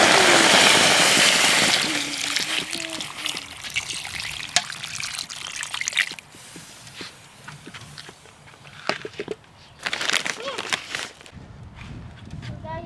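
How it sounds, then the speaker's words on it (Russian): Water poured from a vessel over herring and potatoes in a cooking pot, a splashing trickle loudest in the first two seconds, then quieter intermittent drips and clatter with faint talk. "Мы заливаем все это дело водой."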